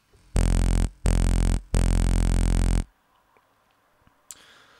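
Deep sub bass synth built from sine and sawtooth waves with a raised low shelf, made in Maelstrom, plays three long sustained loud notes in a row, then stops.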